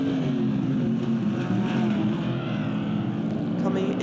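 GT race cars at the Bahrain circuit, among them a Ford Mustang and a Ferrari, their engines roaring steadily in a loud, sustained drone that fills the whole stretch while a commentator talks over it.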